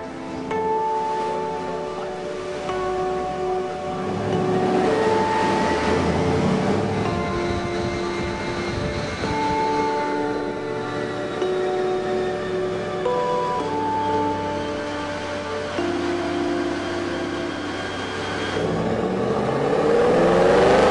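A Ford Shelby GT500 runs hard on a dyno, its engine note rising and shifting in long sustained pulls with a steady whine, loud and continuous throughout.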